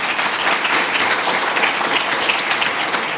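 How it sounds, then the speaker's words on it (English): Delegates at the IASA Symposium 2015 applaud the organising committee, with a full, continuous burst of clapping that stays loud and close for a few seconds without any talking. "perhaps a round of applause for the organising committee,"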